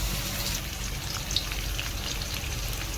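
Onions frying in a pan for a South Indian buttermilk curry give a steady, close crackling sizzle that holds evenly throughout with no talking.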